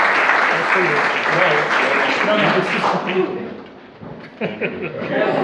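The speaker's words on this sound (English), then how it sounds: "let's give him some applause" Audience applause for a speaker at a local history talk, a steady wash of clapping that thins partway through before picking back up, with chuckles and voices mixed in.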